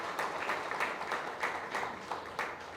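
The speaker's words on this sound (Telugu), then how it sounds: "మీ అందరూ ఫస్ట్ అర్జెంటుగా గట్టిగా చప్పట్లు కొట్టండి" Faint, distant audience clapping at a Telugu film press meet, a soft wash with small surges of applause and no clear speech on top.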